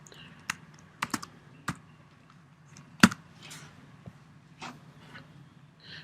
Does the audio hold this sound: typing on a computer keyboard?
yes